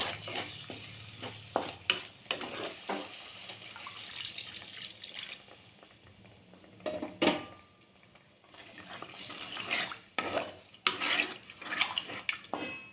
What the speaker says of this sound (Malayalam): ഇനി ഇതിലേക്ക് നമുക്ക് തിളപ്പിച്ച് വെച്ചിരിക്കുന്ന വെള്ളം 1 കപ്പ് ഒഴിച്ചു കൊടുക്കാം.